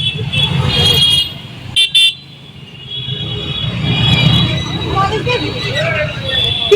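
Road traffic jammed near Chetla bridge in Kolkata at night, with a continuous close rumble of engines, brief horn toots and background crowd chatter under nearby voices.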